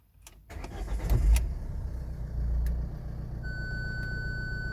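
A 2006 Ford S-Max with a newly replaced starter motor and about 255,000 km cranks briefly and fires at once, then settles into a steady, close idle rumble.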